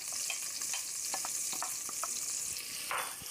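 Onions sizzle steadily in melted olive oil and butter in a pan for a turkey Bolognese sauce, a dense constant hiss broken by occasional sharper pops and stirring clicks, close up with no talk.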